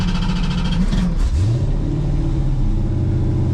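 Engine of a 1970 Dodge Super Bee rumbling in drag strip staging lanes, a steady loud low idle with a brief rev that rises and settles back into a throaty burble.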